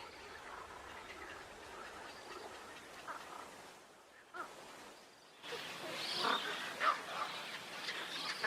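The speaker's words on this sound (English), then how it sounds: "Spoonbills, little egrets and cormorants breed in mixed colonies." A mixed breeding colony of spoonbills, little egrets and cormorants along the Danube gives off faint, scattered calls and croaks. The calls grow busier and louder toward the end over a soft outdoor background.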